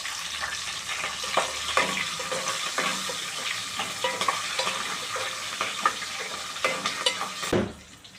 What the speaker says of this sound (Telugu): ఈ గ్రేవీ తర్వాత మిరపకాయలని ఇట్లా దూరగా వేపుకోవాలి